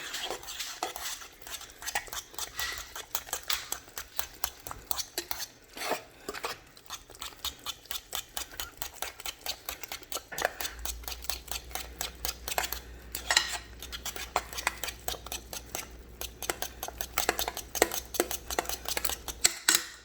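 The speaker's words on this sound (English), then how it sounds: "I'm gonna stir it around." A spoon stirs milk into a homemade dinner in a pot, with steady scraping and clinking against the metal that runs alone and close throughout.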